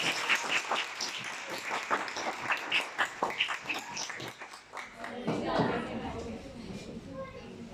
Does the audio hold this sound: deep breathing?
no